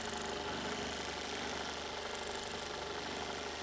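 Quilting machine stitching a log cabin quilt, giving a constant fast mechanical whir and hum that stays steady and even throughout, close and moderately quiet with no talking.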